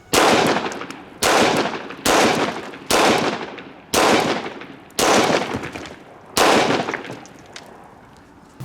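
Seven loud, sharp 10mm gunshots from G2 Research R.I.P. rounds fired at a cinder block outdoors, evenly spaced about a second apart, each blast trailing a short echo, with no talking.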